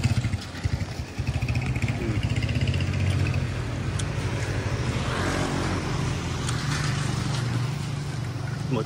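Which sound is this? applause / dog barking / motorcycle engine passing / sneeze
motorcycle engine passing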